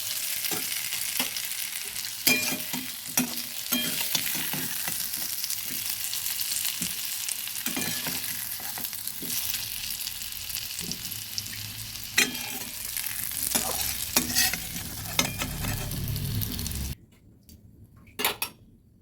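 Fish head and potato pieces fry in hot oil in a wok, a steady close sizzle broken by clinks and scrapes of a spatula against the metal, then dropping away near the end.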